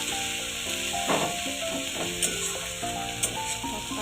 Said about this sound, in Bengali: কলমি শাক ভাজা, তারপর নাড়াচাড়া করে নিয়েছি